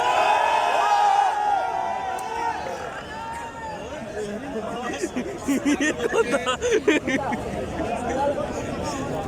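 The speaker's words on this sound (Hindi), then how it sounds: "आवाम चीखें मार रही है" Stadium crowd at a Lahore Qalandars versus Islamabad United PSL cricket match at Gaddafi Stadium, Lahore, a dense roar of chatter and shouting that swells near the end, with someone talking close by.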